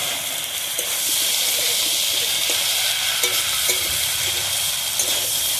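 Banana stem, pumpkin and green chillies sauté in a pan with chilli powder, cumin and coriander powder, making a constant hissing sizzle with occasional soft stirring taps, close and unbroken.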